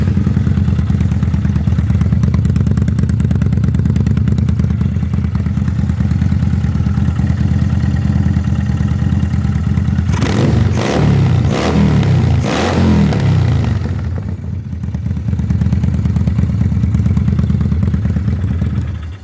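A motorcycle engine running with its air filter removed, idling steadily and loudly up close, then revved in a few sharp bursts midway before settling back to a rough idle.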